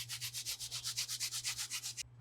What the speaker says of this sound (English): Last up is the sanding pad.